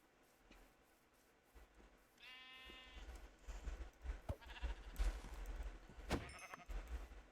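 A sheep in a video game gives one clear, wavering bleat. Soft clicks and low thumps follow, with no talk.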